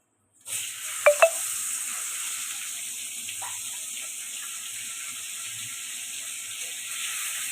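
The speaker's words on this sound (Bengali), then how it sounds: "ওই পমফ্রেট মাছ হলো পুরা নরম মাছ, হালকা করে ভেজে নিতে হয়" Pomfret fish frying in hot oil, a steady close sizzle running throughout, with two brief sharp clinks early on and no talking.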